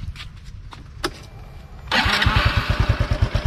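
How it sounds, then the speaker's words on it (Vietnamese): A fuel-injected Honda Wave motorcycle with its stock twin exhaust is cranked with a couple of clicks, then its engine catches and settles into a close, loud, rhythmic putter. "Để mình kêu em mày nổ máy cho anh em nghe thử ơi, máy móc được ngọt ngào không nha."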